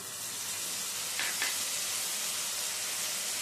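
Rinse water from a bowl poured into ground coriander and cumin frying in a pan, a steady hissing sizzle with a brief brighter spurt in the middle, no voices.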